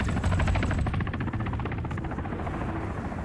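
A helicopter in a military shooter video game, a loud, close, continuous rotor thump with a steady rapid chopping pulse throughout, no voices.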